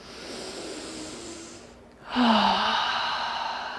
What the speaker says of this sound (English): Now take some deeper breaths.